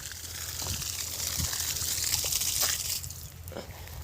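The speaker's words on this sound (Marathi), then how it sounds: "आपण बघू शकता नळ चालू आहे" Water runs steadily from a tap in an apple orchard in a continuous gushing stream, swelling slightly in the middle, with faint background noise.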